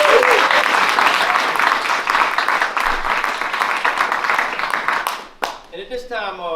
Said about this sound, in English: Wonderful, wonderful round of applause, Mr. Anthony Perez